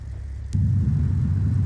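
Aircraft engine in Microsoft Flight Simulator X, a low steady droning rumble that swells suddenly after a brief quiet moment and then holds constant and loud.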